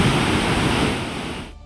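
Floodwater rushes across the path of a washed-out footbridge linking two villages in Kangra, Himachal, a loud, continuous roar of torrent that holds steady and cuts off abruptly at the end.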